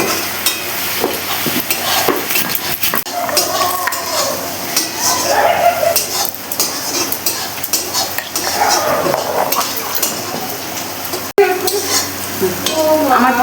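Onions fry steadily in a pan for several seconds, with a continuous sizzle under repeated clinks and scrapes of a metal spoon. Cumin and coriander have just gone in.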